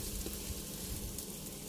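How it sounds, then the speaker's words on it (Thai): A Thai omelette with enoki mushrooms frying in a pan as it is flipped, giving a loud, steady, close sizzle and crackle of hot oil that runs unbroken throughout, with no speech. "เดี๋ยวจะมีการกลับไข่เป็นครั้งที่3นะคะเ พราะต้องการจะให้ไข่ของเรามีความสุกเหลืองทั่วกันทั้ง2ด้านค่ะ"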